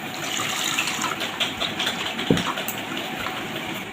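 Flour dough being washed by hand in a bowl of water, with close sloshing and gushing splashes and a few sharper slaps.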